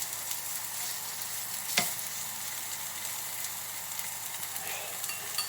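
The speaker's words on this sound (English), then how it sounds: "put our tofu in here and just spread it out so it all lies flat" Tofu sizzles in a dry pan, a steady soft crackling fry with a brief sharp clatter of stirring near the start, fairly quiet and with no talking.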